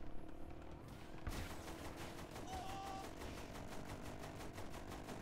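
Rapid gunfire from the video game Saints Row: The Third, a steady dense barrage of shots with a mechanical rattle running throughout, loud and continuous under game noise.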